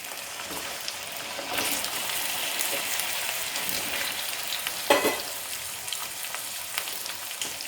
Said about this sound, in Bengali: ঘিটা গরম হলে আমি এর মধ্যে কেটে রাখা গাঠি কচুগুলোকে দিয়ে দেব।